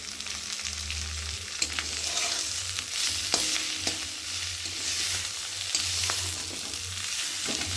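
Leaves frying in a pan are stirred, giving a steady close sizzle with scraping clinks and low rumbling throughout, no voices.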